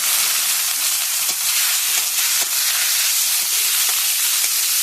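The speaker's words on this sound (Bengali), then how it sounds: "আদা বাটা দিয়ে এবার আমি খেসারির শাকটা এর মধ্যে দিয়ে দেবো" Khesari greens and ginger paste cook in a hot pan, giving a loud, continuous frying sizzle and hiss with faint stirring scrapes, steady throughout with no voices.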